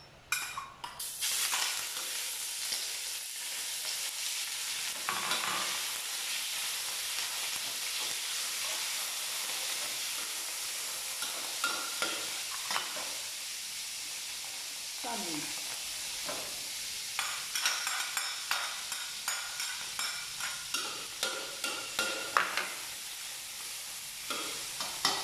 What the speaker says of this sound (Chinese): 现在是炒第二道菜是菜豆炒肉末。